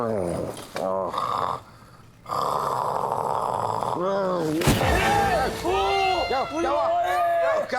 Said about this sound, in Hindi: मैं यहाँ कल की टेंशन में मरा जा रहा हूँ और तुम लोग खर्राटे भर रहे हो